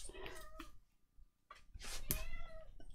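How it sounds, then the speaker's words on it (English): A jet black cat meows indoors amid a crafting session on a file folder journal, a few close, harmonic cries with background noise around them and no one talking. "Oh, here's the cat come to join in now."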